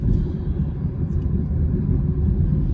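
Vehicles pass on a road with a steady low traffic rumble and engine drone, moderately loud and continuous, with no clear speech.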